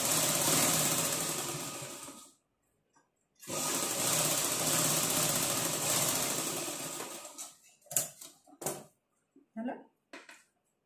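A sewing machine stitches a blouse yoke in two long continuous runs separated by a short pause, followed by a few brief stops and starts, close and fairly quiet.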